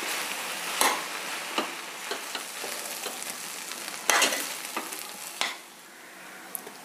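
Vegetable fried rice is stir-fried in a hot pan, a soft continuous sizzle broken by sharp scraping strokes of a spatula, with a couple of louder tossing bursts before it settles quieter.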